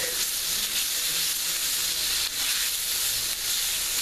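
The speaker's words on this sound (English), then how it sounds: "now we're just going to add in the ribeye. And we're going to cook that up" A ribeye steak sizzles and fries steadily in a hot pan for a philly cheese steak, with a continuous dense hiss and crackle close up and no talking.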